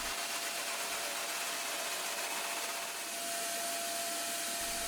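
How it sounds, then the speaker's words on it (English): Power sander trimming deck material at the second bulkhead of a home-built catamaran, a steady, close, continuous whirring drone with a faint high whine, running alone without pause for the full stretch. "First with the saw and fine trimming with the sander."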